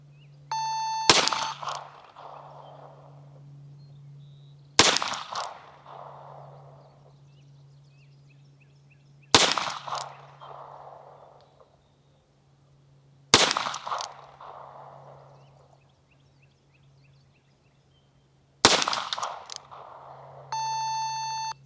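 Five loud, sharp pistol shots at steady intervals of roughly four seconds, each followed by a brief decaying echo, fired during a B8 bullseye target drill on an outdoor firing line, with faint beeps at the start and end.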